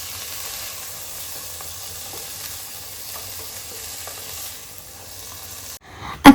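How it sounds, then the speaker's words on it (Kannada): Vegetables frying in oil in a home kitchen pan, a low continuous hiss with faint scattered stirring taps, ending in a sudden loud knock near the end, no speech. "ಸೊ ಈ ತರಕಾರಿ ಎಲ್ಲ ಚೆನ್ನಾಗಿ ಆಯಿಲಲ್ಲೇ ಫ್ರೈ ಆದರೆ ಟೇಸ್ಟ್ ತುಂಬ ಚೆನ್ನಾಗಿರುತ್ತೆ."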